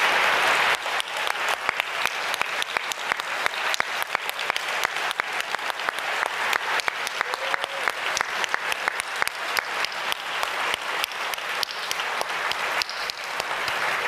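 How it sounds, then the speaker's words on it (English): An audience at a forum on campus life gives students a sustained round of applause, dense and steady clapping for about fourteen seconds with no talk over it. "Could you please stand so we can give you a round of applause?"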